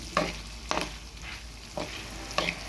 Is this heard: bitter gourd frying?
yes